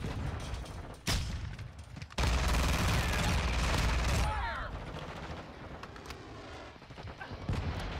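Bursts of rapid gunfire from the video game Warzone 2 / Modern Warfare 2, loud sustained volleys with sharp onsets and a few isolated shots, heard amid game sound effects.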